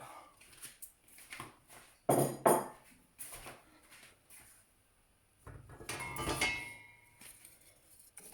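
A spoon scrapes and knocks against a pot of Moroccan harira soup, giving irregular metallic clanks and clinks in short bursts separated by quiet gaps, close by.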